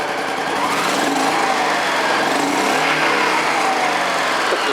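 A Honda Pacific Coast PC-800 motorcycle engine runs at a steady, loud idle, with a continuous whirring drone and no talk.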